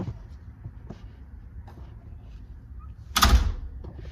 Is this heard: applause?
no